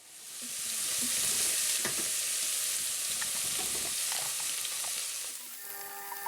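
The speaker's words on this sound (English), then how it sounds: "we will add our garlic and just let that get fragrant" Garlic sizzles and fries steadily in a hot pan, a dense crackling hiss that rises within the first second and holds loud and close, with occasional stirring scrapes, then eases slightly near the end.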